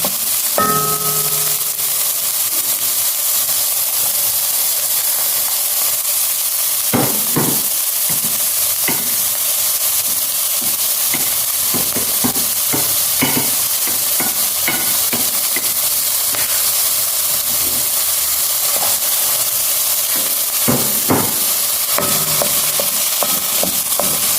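Tofu sautés in a pan for a coconut-milk curry, giving a steady hiss and sizzle throughout, broken now and then by scraping stirs and clinks of a utensil, with no one talking.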